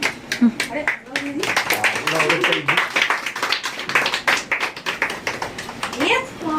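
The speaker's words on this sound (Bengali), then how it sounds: "ওদের জন্য একটা জোরে হাততালি আমি দিলাম" Sharp hand claps come in quick, uneven bursts at a small Teachers' Day celebration for a children's batch, close and fairly loud, with voices talking and calling out between and over them.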